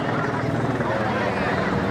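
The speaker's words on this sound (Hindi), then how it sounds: "हेलीकॉप्टर भी घूम रहा है अपना संगम के क्षेत्र पे।" A helicopter flying over the Sangam riverbank area during the Kumbh gathering at Prayagraj, heard as a steady, continuous rotor drone with even loudness throughout.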